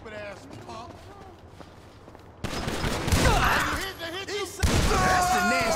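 Gunfire erupts in GTA 5 during a mission, sharp shots bursting over game music and voices, louder in the second half with clustered cracks and impacts.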